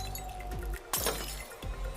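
Glass shattering as something crashes through large picture windows: a sharp, loud burst of breaking glass near the middle, with scattered tinkling fragments around it and no voices.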